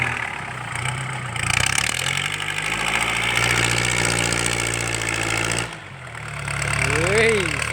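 Mitsubishi L50 pickup without a turbo idles with a loud, throaty exhaust, a steady close rumble that dips briefly near the end before returning, with people talking over it.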